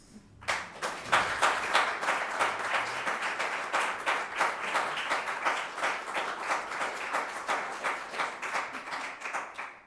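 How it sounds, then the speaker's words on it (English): Sustained applause from a conference audience for a panel, dense rapid clapping that swells quickly and stays steady for about ten seconds before tapering slightly. "A big round of applause for all of them, please."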